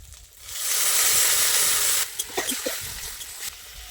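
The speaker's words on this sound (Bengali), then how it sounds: "এবার এতে আমি সামান্য জল দেবো" Water poured into a hot pan of fried koi fish masala for koi macher jhal sends up a loud, steady sizzle and hiss that peaks, then settles into softer popping and bubbling.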